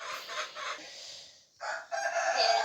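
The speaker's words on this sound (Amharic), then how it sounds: "ዶሮችም እየጮሁ እየረበሹ ነው።" Chickens cluck while a rooster crows, fairly faint and somewhat distant, with a short pause before the fowl noise picks up again. No one speaks.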